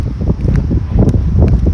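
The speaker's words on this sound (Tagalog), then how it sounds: "Medyo windy guys," Steady wind buffeting a microphone outdoors, a continuous low rumble with gusty swells throughout.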